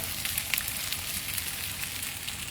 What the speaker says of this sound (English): I forgot to add the ginger paste to the broth, so I'm just gonna throw some in right now and stir it